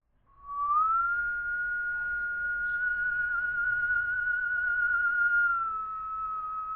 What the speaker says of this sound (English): there is a bit of whistling in this song